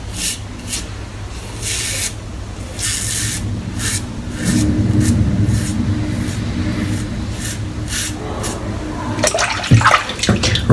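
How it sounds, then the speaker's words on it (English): Water sprays and splashes in a steady broadband rush while a razor is rinsed under a cold tap during a head shave, with short bursts of spraying and a clatter of splashes near the end. "Rinses off really nice off the razor as well."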